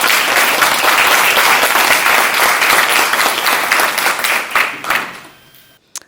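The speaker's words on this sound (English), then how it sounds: "Let's give them a round of applause." Loud, dense audience applause at a class celebration, a sustained wash of many hands clapping close by that gradually thins and fades out near the end.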